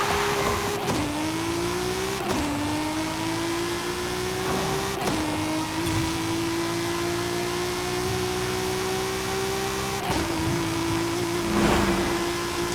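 A 1300 hp Audi RS3 Sedan engine in Forza Horizon 5 roars at high revs, pitch climbing steadily then dropping sharply at each gear shift, repeated several times in a continuous drone.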